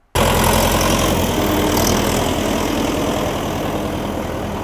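A farm tractor engine runs steadily at close range, a loud continuous low rumble with a rapid rhythmic chug that holds from start to finish without talk.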